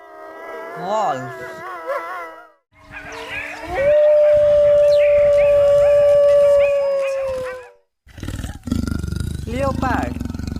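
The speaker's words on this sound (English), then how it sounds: "Wolf." A wolf howls in long, wavering calls, with one sustained, steady howl held for several seconds, followed by rougher, noisier vocal sounds nearby.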